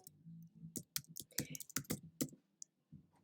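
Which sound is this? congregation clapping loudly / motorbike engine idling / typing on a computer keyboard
typing on a computer keyboard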